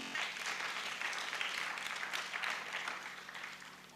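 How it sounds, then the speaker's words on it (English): Children at a summit clap for themselves in a steady, dense round of applause filling the room, evenly sustained and fairly distant from start to finish. "every child in this room, can we clap for ourselves for being present?"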